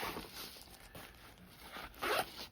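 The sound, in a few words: zipper of a backpack pocket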